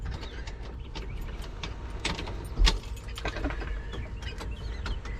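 Keys jangle in a few brief metallic bursts near the microphone, set against the low hum of a vehicle or outdoor background, with no talking.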